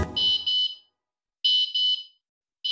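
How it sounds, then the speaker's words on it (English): Alarm from an AirBolt tracker, triggered manually: loud, piercing electronic beeps in pairs, each pair followed by a short pause, repeating in a regular pattern with no other sound around. "Or you can activate the alarm manually."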